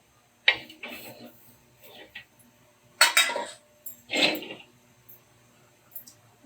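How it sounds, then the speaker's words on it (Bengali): A cooking pot is dragged closer with a helper tool and set onto a stove, producing several scraping, clanking metal knocks spaced irregularly, fairly close. "এখন বসাই দেব হাঁড়িটি চুলায়।"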